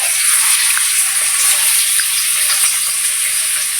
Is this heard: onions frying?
yes